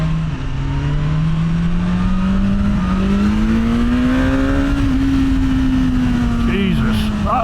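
A 2025 BMW S1000R naked motorcycle pulls hard under acceleration, its engine note climbing steadily in a loud, continuous rising drone heard from the rider's position with heavy wind rush.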